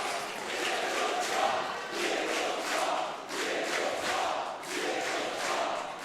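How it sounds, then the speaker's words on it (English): A large arena crowd at a CS:GO LAN match chanting for Virtus.pro, rhythmic rising and falling waves of massed voices, loud and sustained throughout. "It's almost hard not to join in the chants of Virtus.pro and start clapping along with the crowd"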